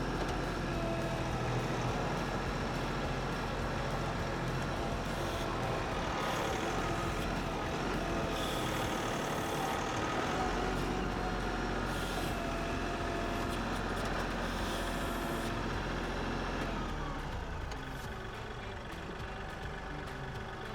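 Tractor loader engine held at steady RPM on the hand throttle in four-wheel drive, running continuously and loud while pushing the bucket into a loosened dirt pile, with a slight drop in level near the end.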